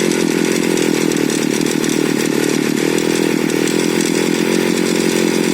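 A two-stroke brush cutter engine revs high and steady after its idle screw has been adjusted. The loud, continuous whine holds through the whole stretch with no pauses or talk.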